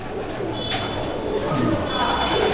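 A Madras pigeon coos close by in soft, low, repeated calls over a faint background murmur.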